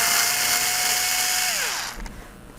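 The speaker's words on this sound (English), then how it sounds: "I'm going to get my cordless screwdriver, back these screws out here." Cordless screwdriver backing screws out of a Dell Vostro laptop hard drive, a loud close whine holding steady then spinning down and stopping, alone without talk.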